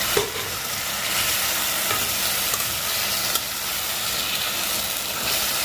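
Crisply fried fish being stirred with potatoes in a pan, a continuous loud sizzle with scraping stir sounds throughout.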